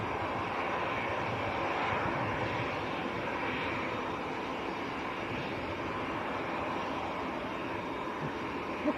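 Jet aircraft at Manchester Airport make a steady, broad roar that holds at an even level throughout, somewhat distant, with no voices over it.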